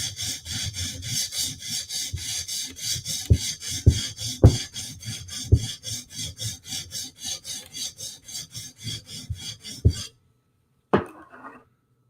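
A knife blade is profiled on a sharpening stone with steady back-and-forth rasping strokes for about ten seconds and a few sharper knocks. Then comes a pause and one last brief scrape.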